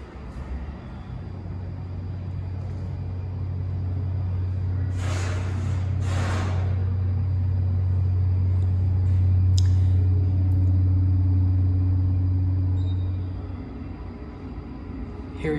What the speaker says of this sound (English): We're gonna take one ride on this elevator.